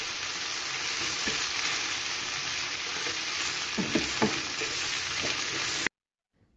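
Loud, continuous sizzling of meat frying in a pan for adobo, with occasional scraping stirs, ending abruptly in silence.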